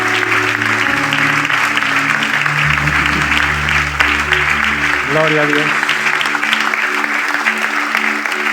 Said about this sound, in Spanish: Dele un aplauso con todo su corazón.